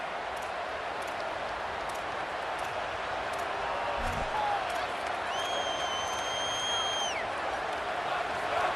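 Steady roar of a stadium crowd in the College Football 27 video game during a Morris Brown vs Colorado matchup, a continuous wash of cheering and murmur with a brief whistle-like tone near the end.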